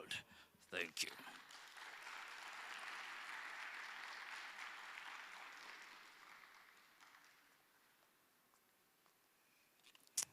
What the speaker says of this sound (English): Please give me another round of applause.